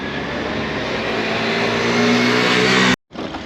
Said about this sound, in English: And here comes the bus.